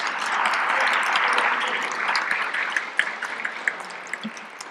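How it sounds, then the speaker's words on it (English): Applause from an audience at a senior day gathering at the Capitol, a broad steady wash of clapping that thins out toward the end into scattered individual claps. "I'd like to have another round of applause"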